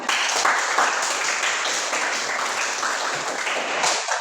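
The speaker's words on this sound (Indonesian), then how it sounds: "Renata, mari kita beri tepuk tangan untuk Renata." A classroom audience applauds a student, with steady, fairly loud clapping that holds for several seconds and no talk over it.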